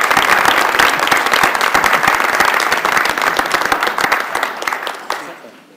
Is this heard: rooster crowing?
no